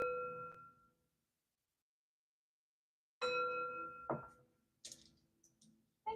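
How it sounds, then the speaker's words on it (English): A chime is struck three times, each strike ringing out clearly against silence with bright, sustained metallic tones that decay slowly. A long pause follows the first strike, then two closer strikes and a final brief hit at the end. "3 chimes to bring in positive energy."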